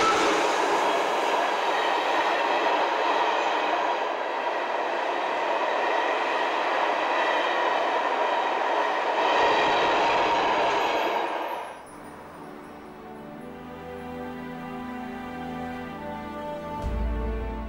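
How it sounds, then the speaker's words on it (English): A DM3 electric locomotive hauls empty ore wagons from Narvik past Abisko tourist station on the Malmbanan line in Sweden, a steady loud rumble of rolling wagons that gives way to a lower hum and wheel clatter as the train passes. "a DM3 passes with empties from"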